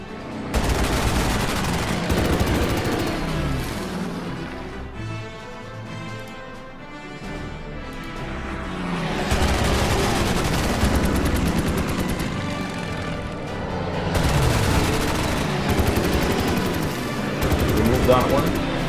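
Unit gunfire in the strategy game Order of Battle comes as dense, loud bursts of rapid shots with booming impacts, easing into a quieter stretch midway before swelling again.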